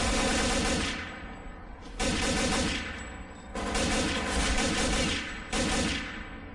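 Heavy, continuous gunfire from a hard combat section of Counter-Strike: Condition Zero Deleted Scenes, with an enemy gunship nearby. Loud overlapping volleys come in long bursts, broken by a few brief lulls.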